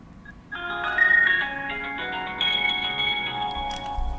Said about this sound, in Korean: 송대성 세종연구소장 전화로 연결해 보겠습니다.